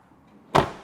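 Passenger rear door of a 2001 Jeep Cherokee Sport 4-door being opened or shut, a single short thud and rattle after a quiet moment, close and moderately loud.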